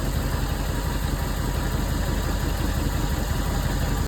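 An old car engine idles steadily after a cold start, a close, even mechanical rumble with a faint rattle from the bumper and front panel, running alone without any talk.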